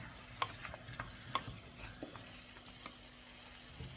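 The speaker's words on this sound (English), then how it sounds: "Just give everything a stir around." Spoon stirring cubed sweet potatoes around a curry pot, with a few soft scraping clinks at irregular intervals over a quiet background, no talking.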